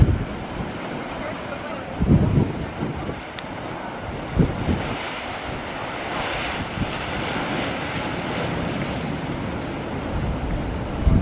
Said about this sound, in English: Look at this big tall wave coming there.